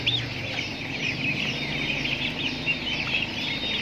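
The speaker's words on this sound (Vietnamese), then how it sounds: "một giống gà tây choay nhá." A flock of 15-day-old turkey poults peeps and chirps continuously, high thin calls overlapping at close range against a low background rumble.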